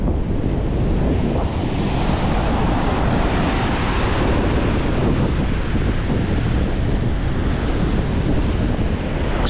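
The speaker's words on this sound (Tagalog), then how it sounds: "Ganun kalakas ang habagat." Strong southwest monsoon winds roar against the microphone while surging floodwater rushes beside them, a loud, dense and continuous wash of noise with no letup and no speech.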